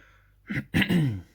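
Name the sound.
cough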